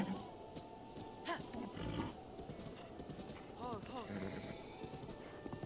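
Steady clip-clopping of horse hooves with an occasional whinny, under game ambience and background noise in the game Breath of the Wild; no speech.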